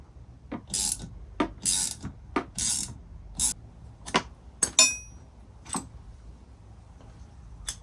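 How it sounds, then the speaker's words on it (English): A puller is worked to remove the old pulley from a Surron electric motorbike, giving a sparse series of close metallic ratcheting clicks and clanks separated by quiet pauses. "And now I'm gonna try to pull the pulley off."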